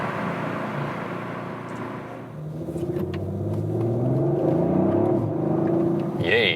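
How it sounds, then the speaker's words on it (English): An Audi RS5 drives uphill with a low engine rumble that swells as it accelerates. Road and cabin noise sit underneath, and a voice speaks faintly near the end. "our agile driving up the hill here with the RS5"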